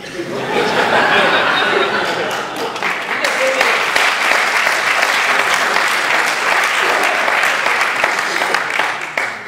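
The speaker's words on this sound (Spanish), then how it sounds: "No aplaudan los chistes" A lecture audience at a talk in Alcañiz breaks into loud, sustained applause after a joke, with laughter and chuckles mixed in, the clapping swelling then holding steady for several seconds.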